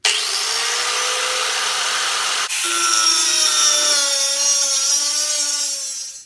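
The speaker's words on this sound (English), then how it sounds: "just take your angle grinder or your hacksaw and go ahead and start cutting" A hacksaw or angle grinder cuts metal stock for a DIY weight tree, a loud continuous whine held steady, briefly interrupted, then resuming with ringing metallic tones that fade at the end.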